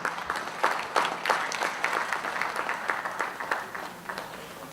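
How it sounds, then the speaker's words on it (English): Audience applause for a minister at an education summit forum, a steady patter of many hands clapping at moderate volume with a few sharper bursts, no talk over it. "Please give him a round of applause."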